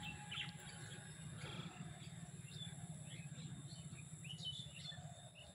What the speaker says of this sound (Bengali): বড় বড় পাখি, এক একটা রাজহাঁসের সমান সমান হবে